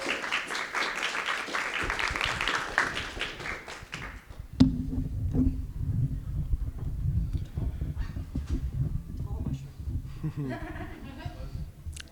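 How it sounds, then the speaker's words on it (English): Applause for a poet at a convention poetry slam breaks out as a dense wash of clapping that fades after a few seconds, then gives way to scattered taps, shuffling and low room murmur. "Everyone give a big round of applause for Jason."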